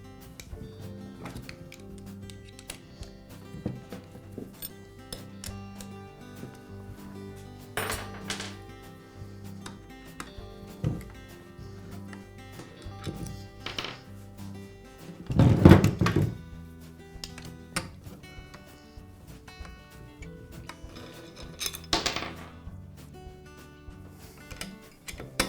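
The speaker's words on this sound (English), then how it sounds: "I'll begin by removing the head from the nail gun." Head being removed from a Bostitch nail gun, scattered thunks, taps and metallic knocks of tools against the housing, close up, with a heavier clatter midway and no talking.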